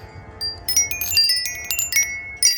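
A metal wind chime rings in the wind on a windy day, with scattered bright clear tones overlapping and fading in irregular clusters over a low breezy rumble.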